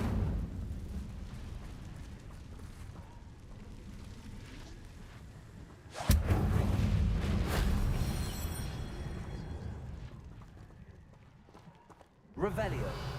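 A fire spell, Incendio, cast in the video game Hogwarts Legacy, bursting out in a loud whooshing blast midway and again near the end over a steady layer of game ambience.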